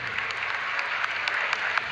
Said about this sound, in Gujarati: આના માટે જોરદાર તાળીઓથી આજના